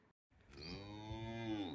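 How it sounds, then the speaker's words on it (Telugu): A cow lowing in a goshala cow shed, one drawn-out moo of under two seconds, fairly faint, heard alone after a brief silence. "ఇక్కడ వచ్చేసి మనకి ఆవులు ఉంటాయి."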